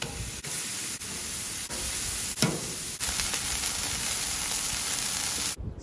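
Slider meat cooking on a Blackstone griddle gives a dense, steady sizzle close by, broken by a few brief clicks and scrapes before it cuts off abruptly.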